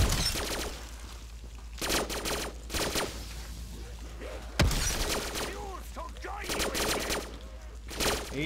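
Gunfire in Call of Duty custom zombies, bursts of rapid shots with sharp cracks and shattering, loud and close, repeated in clusters across the stretch amid other game noise.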